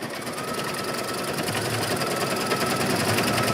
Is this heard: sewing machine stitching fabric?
yes